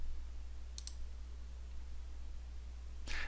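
A couple of faint, sharp computer mouse clicks while working in Civil 3D software, one pair early and one near the end, over a low steady hum in a quiet room.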